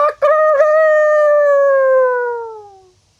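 A person imitates a rooster's crow, a loud, close, drawn-out call with a few choppy opening notes followed by a long tone that fades out.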